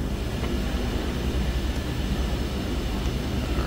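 A DHC-6 Twin Otter in Microsoft Flight Simulator 2020 takes off with a loud, steady, broadband roar of twin turboprop engines that holds constant throughout, with no voices.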